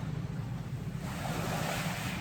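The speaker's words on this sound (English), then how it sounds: "Might be a little chillier, and it's kind of windy." Steady, blustery wind on a cool, cloudy day, buffeting the microphone with a continuous low rumble and hiss that holds for the whole stretch with no voices.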